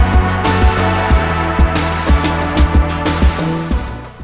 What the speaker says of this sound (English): Next up is a synth that could not be more different, and that is the Gamechanger Motorsynth.